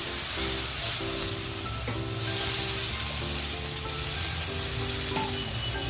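Spice paste of ginger, garam masala and tomato paste frying in a pan for an Indian potato dish, giving a steady close sizzle with stirring scrapes throughout, with no talk.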